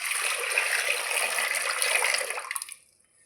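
Water poured from a cup into a pressure cooker holding lentils for a Kerala-style curry, a close, steady splashing pour that stops abruptly near the end.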